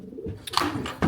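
Pet pigeons in a loft give soft, low coos close by, several short throaty bursts within about a second, with no talking.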